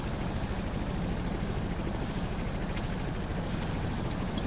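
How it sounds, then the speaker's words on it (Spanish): Helicopter rotor and engine noise from the video game Ghost Recon Future Soldier, a steady, loud, continuous drone filling the whole stretch with no break and no talk. "Enviamos helicópteros a recogerlos y dar punto de encuentro."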